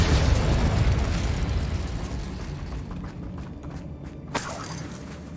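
In the Hogwarts Legacy game, spell-casting blasts rumble loudly at the start and fade into a dense crackling wash, ending in a sharp magical burst near the close, with no talk.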